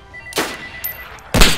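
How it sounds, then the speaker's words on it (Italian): Two sharp gunshots in DayZ Standalone about a second apart, loud and close, each a brief bright burst with a short tail, over faint background noise. "spara un colpo."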